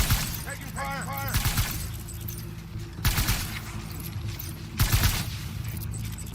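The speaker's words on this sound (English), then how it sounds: "Taking fire!" Bursts of rapid video-game gunfire in Death Stranding come in three clusters, loud and sharp, with metallic clatter and shattering mixed in and brief tonal chirps early on.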